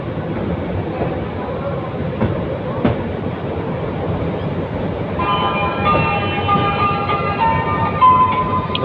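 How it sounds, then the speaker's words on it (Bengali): A train hauled by a Korean Hyundai 3000 series locomotive curves out of Kamalapur station in Dhaka, with a steady loud rumble of rolling wagons and a brief sharp clank, then high screeching wheel squeal on the bend in the latter half. "এই ট্রেনটি বাঁক নিয়ে কমলাপুর রেল স্টেশন থেকে বেরিয়ে যাচ্ছে।"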